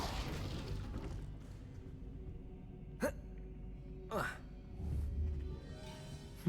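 A Confringo spell blast in Hogwarts Legacy goes off as sharp bursts, three or four separate pops and whooshes spaced a second or so apart over a low ambient bed, with a voice speaking in between.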